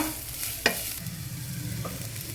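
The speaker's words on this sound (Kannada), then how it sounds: "ಒಂಚೂರು ಮೆತ್ತಗಾಗತ್ತಾನ ಫ್ರೈ ಮಾಡ್ಕೊಳ್ಳೋಣ" Chopped vegetables, including capsicum, frying in a pan for ragi roti rolls, a steady low sizzle with a single sharp clink of a utensil near the start.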